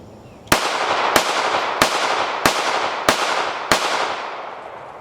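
Six evenly spaced shots ring out from a Sig P238 pistol in .380 ACP, each a sharp, loud crack with a lingering outdoor echo, about one every two-thirds of a second and with no talking.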